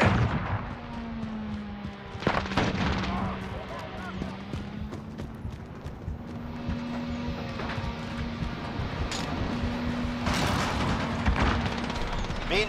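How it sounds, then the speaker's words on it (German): A flashbang grenade going off in the Call of Duty Modern Warfare video game: sharp bright bursts stand out over steady battle noise and a droning hum. Game voice callouts sound around them. "Blendgranate!"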